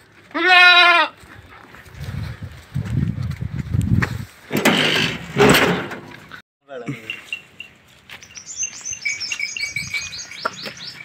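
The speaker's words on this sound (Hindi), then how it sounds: "तो माशाल्लाह एक बकरी है वो ब्याह वाली है भाई पूरा" A pregnant goat on a farm gives a loud, close, quavering bleat at the start, followed by voices talking, rustling and handling noises, and bird chirps toward the end.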